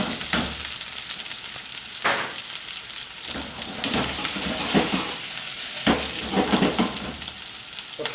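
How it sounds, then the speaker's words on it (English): Onions and peppers stir-fry in a hot pan for beef in black bean sauce, a loud continuous sizzle with repeated scraping and tossing strokes every second or so, close up and without talk. "Onions breaking up. Peppers doing a little bit of colour on them."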